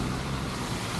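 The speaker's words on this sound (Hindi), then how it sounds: "हवा चल रही है" Wind gusting along a slushy, snow-covered street lined with restaurants, a steady broadband rushing and buffeting close to the microphone for the whole stretch, with no voices.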